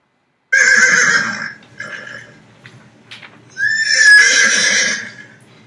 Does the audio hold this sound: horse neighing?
yes